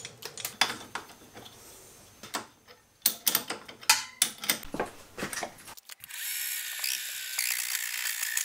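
A screwdriver tightens a small machined part through a slot cut into it, giving close, irregular ratcheting clicks and knocks in short bursts, then a steady hiss at the end.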